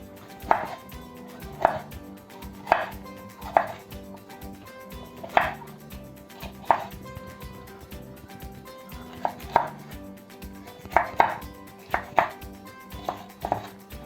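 A knife chops bell pepper on a cutting board in irregular, crisp strikes, some in quick pairs, spread across the whole stretch with a low kitchen background and no talk.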